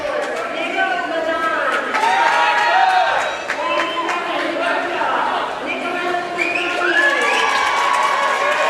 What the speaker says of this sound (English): And we really have the crowd showing the support for their favorites.